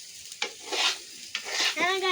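Rice frying in a pan for pulao, with bursts of sizzling and scraping stir strokes close by, two distinct pulses and a clink of the utensil.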